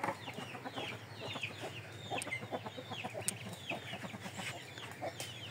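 Chickens cluck steadily on a Bangladeshi duck and chicken farm, overlapping close calls with sharp chirps and a few brief crowing notes above, dense and continuous throughout.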